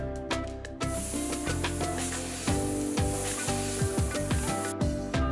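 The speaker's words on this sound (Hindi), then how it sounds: "और हवा निकाल दें।" Air hisses steadily out of the opened valve on a Swaraj tractor tyre's inner tube as it is deflated. The continuous hiss starts after a brief pause and plays under background music.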